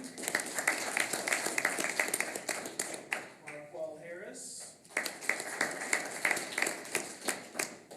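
Audience members at a board of education meeting applaud, dense clapping that breaks off briefly mid-way as someone speaks, then resumes.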